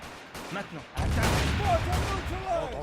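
Gunfire from a World War I battle in a video game, with bursts of rapid shots and booms that begin suddenly and keep rolling, loud and close, while someone talks over them.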